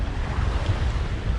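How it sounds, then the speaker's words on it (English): Rough surf rolls onto a breezy Grand Cayman beach, a steady broadband wash of waves mixed with gusty wind buffeting the microphone, with no voices. "the waves are a little rough"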